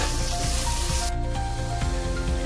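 Chopped small onions sizzling and hissing steadily in a hot pan as they are stirred for pav bhaji, a continuous close, even frying noise throughout with no talking.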